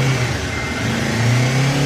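Kawasaki Ninja 500 SE motorcycle, a 2025 model still in its break-in period, revving from a warm idle with a steady, loud low engine drone that climbs slightly in pitch near the end.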